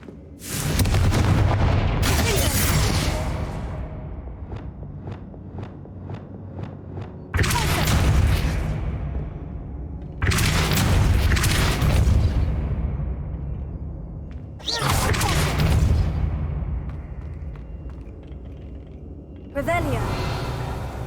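Confringo fire spell blasts from Hogwarts Legacy, four heavy booming explosions spaced a few seconds apart, each loud and close with a long rumbling tail and lingering crackle.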